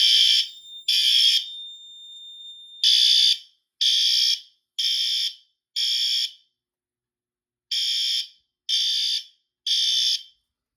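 A pull station sets off a Notifier NFS2-640 fire alarm system, which blares loud and near in a repeating temporal pattern of three electronic horn bursts, pause, then three more, with no voices over it.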